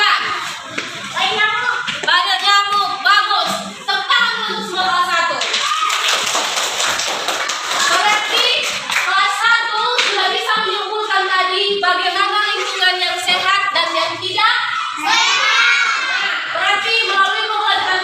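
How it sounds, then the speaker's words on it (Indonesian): A class of first-grade schoolchildren claps together in a classroom, with a burst of dense clapping in the middle, while children's voices chant and talk loudly throughout. "Tepuk tangan untuk semua kelas 1."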